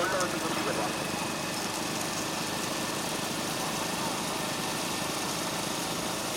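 Tractor engine running steadily at a bullock cart race in Tamil Nadu, a continuous loud mechanical drone with crowd noise and shouting voices over it throughout.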